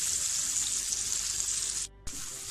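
Onions sizzle in a pan over a medium flame, a steady close hiss that runs unbroken, cuts out for a moment near the end, then comes straight back.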